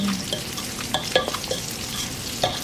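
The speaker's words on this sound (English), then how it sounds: "Black pepper, the paprika. And give that a nice stir." Seasonings with black pepper and paprika being stirred in a hot pot, a soft sizzle running under a few light scrapes and taps of the spoon against the pot.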